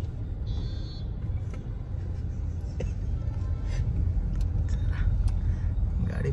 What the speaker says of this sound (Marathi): गाडी पार्क करूया पहिला